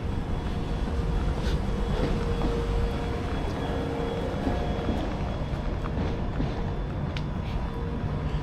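A London Underground Piccadilly Line train runs at speed as heard from the driver's cab, a dense, steady rumble and roar with faint squeals and rattles, continuous and close throughout.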